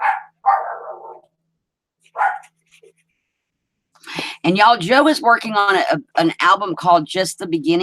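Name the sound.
dogs barking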